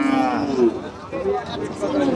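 Cows lowing at a village cattle market, several drawn-out moos one after another, fairly close and loud over light background chatter from the crowd.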